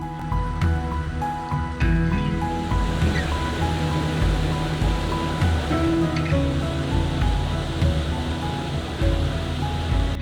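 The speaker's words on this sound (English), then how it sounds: "The water bursts out of the rock, clear and powerful" Continuous rushing of a mountain spring bursting from rock in the Alps, a dense roar with occasional splashes and rattles, close by and steady throughout.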